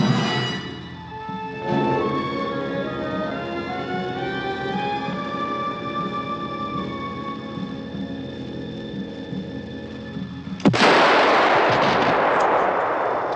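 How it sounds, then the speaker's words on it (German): Artillery or gunfire in a 1955 German war film: a single loud, sharp blast bursts in near the end, after a long stretch of steady, droning tonal sound, and its rumble trails off afterward. "Ich habe befohlen zu feuern!"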